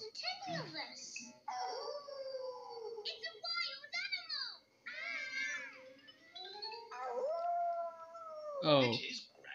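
Cartoon characters at a wolf's birthday party howl like wolves in a string of rising and falling voiced howls, close and clear with short gaps, kids' voices imitating the wolf cry.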